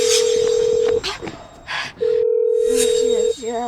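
An unanswered phone call rings out: two long, steady ringback tones separated by a pause, with faint background sounds in the gap.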